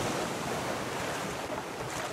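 Steady ocean waves and wind in the survival raft-building game Raft, a continuous broadband wash of surf without pauses, moderately loud and alone.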